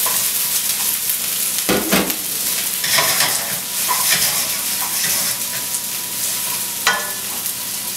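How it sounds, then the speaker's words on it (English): Finely chopped onions sizzle and frying in hot peanut oil over medium heat, a steady close crackle with brief louder bursts of stirring, no talking. "Over medium heat, I've heated up 3 tablespoons of peanut oil. To this, I'm going to be adding half a cup of chopped onions"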